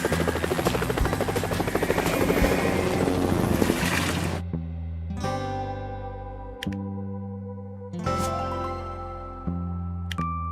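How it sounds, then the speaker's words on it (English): Firefighting helicopter with a dense, loud rotor and engine roar for about four seconds, then cutting to a quieter stretch of separate mechanical tones and short clanking hits. "Firefighting helicopter."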